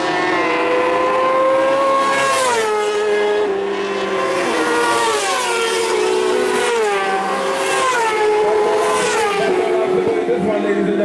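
Racing motorcycles scream past at a 2017 CMRC bike race circuit in Trinidad, engines rising and falling in pitch through overlapping passes, loud and continuous throughout with no talk over them.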